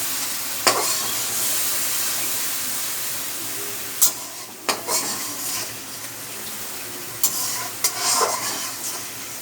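Spice paste and potatoes frying in a pan with steady hissing oil, punctuated by a handful of sharp spoon knocks and scrapes spread over several seconds, near and without speech.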